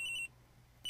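During a room search in the video game Ace Attorney Investigations, a high electronic ringing tone plays, cuts out briefly, then starts again.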